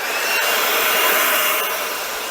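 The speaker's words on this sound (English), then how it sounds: "It's a Makita battery blower." A Makita battery-powered leaf blower running over a flint gravel driveway, a steady close-up whoosh of rushing air that swells slightly and holds.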